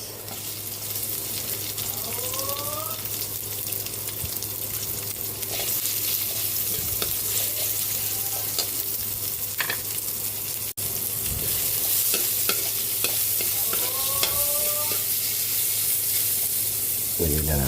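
Onions sizzle steadily in a hot pan for pork kare-kare, while a utensil scrapes and stirs them in a few clear bursts under a constant low hum.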